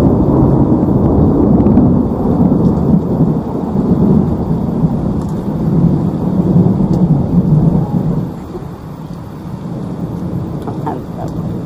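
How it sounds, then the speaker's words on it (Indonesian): Heavy rain falls outside in a rural area near rice fields while loud, deep thunder rolls and rumbles continuously, then fades slightly. "Luar masih hujan dan petirnya masih sangat gede-gede."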